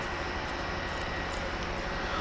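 A helicopter in the video game Far Cry 5 drones steadily with a constant rotor and engine roar, loud and unbroken throughout with no talking.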